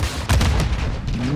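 A bomb explosion in the Call of Duty Modern Warfare II video game lands as a heavy, loud boom with a rumbling low tail under dense battle noise.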